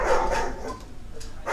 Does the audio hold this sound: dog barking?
yes